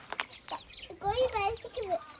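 A chicken clucks in short, close bursts, with a voice and small background noises around it.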